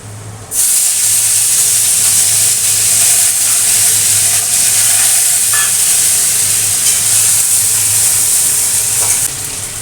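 Hilsa fish oil tempered with green chillies sizzles loudly and steadily in a pan, a dense continuous frying hiss that starts abruptly and holds for the whole stretch, with a low hum underneath.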